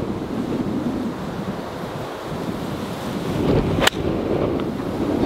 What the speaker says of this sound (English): Bloody wind off the left is doing me in.